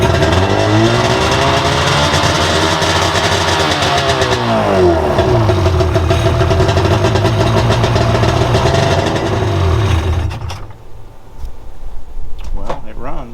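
Engine of a free boat starting and running: a loud, steady mid-pitched roar with revving swells for about ten seconds, then it drops away briefly before rumbling on.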